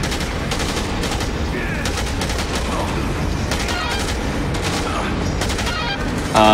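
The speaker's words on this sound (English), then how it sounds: "I'm going to tap fire these guards because save bullets" Rapid bursts of tap-fired gunshots at guards during a video game speedrun, clusters of sharp cracks repeating in quick rhythm over dense, loud game noise, with faint talk underneath.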